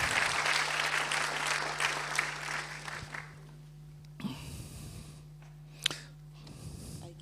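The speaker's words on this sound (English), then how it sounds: "A round of applause to Evangelia" Hearty applause from attendees at an annual forum fills the room for about three seconds, then tapers off into quiet room hum with a few stray knocks and rustles.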